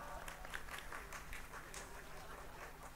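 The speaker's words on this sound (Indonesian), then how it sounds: "tepuk tangan." Audience applauding at a live outdoor religious gathering in a village, a faint, steady patter of many hands clapping heard from a distance under a low background hum.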